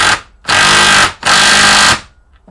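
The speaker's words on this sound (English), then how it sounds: "I find the quickest way is a 17mm socket on an impact gun, and just hold that on top of the bolt" An impact gun fitted with a 17mm socket drives an M10 bolt while a vice is installed, giving two loud, sustained rattling hammer bursts of about half a second and one second, separated by a short pause.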